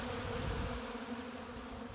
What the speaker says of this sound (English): And then we walk in amongst the bees